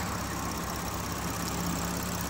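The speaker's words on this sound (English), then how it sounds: "all you can basically hear is the ticking of those high pressure injectors" An idling 2022 Volkswagen Touareg 3.0 V6 TSI petrol engine close up, with the fast, faint ticking of high pressure fuel injectors riding over the steady hum.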